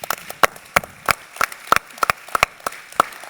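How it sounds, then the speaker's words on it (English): A conference audience claps sparsely after a space exploration talk, with about a dozen sharp, separate hand claps scattered irregularly and no speech. "a round of applause for Ji as well"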